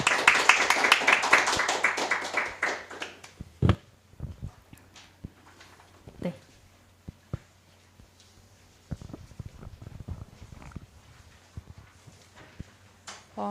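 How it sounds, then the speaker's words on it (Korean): An audience applauds four Cheongshin International High School students after their presentation at a STEAM education event. Dense clapping for the first couple of seconds fades into scattered claps and light room noise. "오늘 지금 발표해주신 지금 청신국제고등학교 4명의 학생에게 마지막으로 큰 박수"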